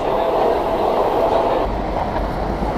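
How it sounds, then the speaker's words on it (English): A train pulls into a station in Tokyo, a steady loud rumble and rail roar filling the scene from start to finish with no break. "Train's here."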